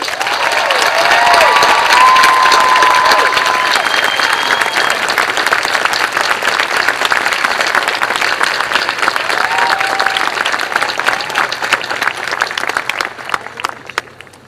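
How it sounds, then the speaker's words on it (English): Sustained applause and cheering from a large audience at a Howard University graduation ceremony in 2015, loud and dense throughout with a few whoops rising above, thinning out in the final second. "please join me for a most gracious applause and welcome for Dr. Ursula M. Burns."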